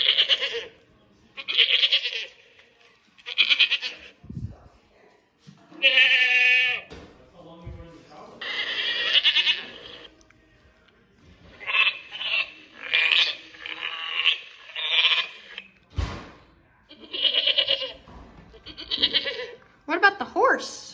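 A toy's recorded goat bleats in a run of repeated nasal, wavering calls of varied length across the whole stretch, fairly loud and close, with a few brief low thumps between them.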